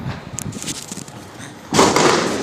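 Firecrackers set off outdoors, heard as a sudden loud burst of crackling noise after a stretch of quieter background sounds.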